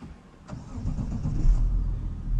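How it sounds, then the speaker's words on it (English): A Mazda CX-60 D254 SUV's 3.3-liter six-cylinder diesel cranks and fires up, a brief starter click giving way to a low, building engine rumble that settles into a steady idle, close and alone. "this is the sound of the 6-cylinder diesel we have here."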